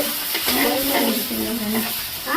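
Curry leaves drop into hot oil, producing a loud, continuous crackling sizzle close by, steady throughout with a faint voice low in the mix.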